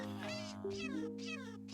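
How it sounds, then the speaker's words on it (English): A cat in the Cobblemon mod for Minecraft gives a pair of clear, drawn-out meows that sit close and loud over a steady background hum from the game. "there's a cat in the boat."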